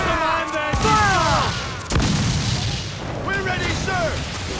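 Ship cannons boom in a naval battle in the video game Assassin's Creed 4 Black Flag, heavy blasts near one and two seconds with rumbling aftermath, while shouted voices carry over the fighting.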